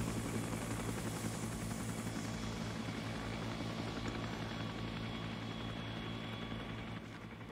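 A Chinook helicopter in Arma 3 S.O.G. Prairie Fire drones loudly and steadily from close by, a thick rotor and engine hum with a constant buzzing whine that eases slightly near the end.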